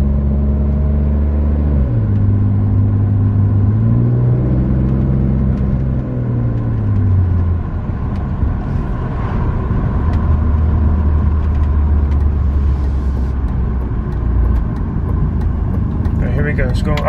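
A car lowered by four or five inches drives up a residential street over potholes, its engine rumbling steadily close by with shifting low tones as it changes speed, and someone talks over it.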